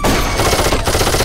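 Dense, rapid gunfire in the historical shooter game Darkest of Days, set in Pompeii, with a loud continuous fusillade of overlapping shots close by for just over a second.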